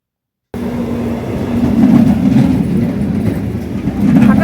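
A train pulls into a station, a loud, close, continuous low rumble with rail clatter that swells slightly toward the end, with no talk over it.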